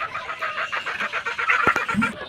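Chickens cluck and murmur close by on a poultry farm while being given medicine with their feed. Rapid overlapping bird calls run continuously over a short stretch, with no speech.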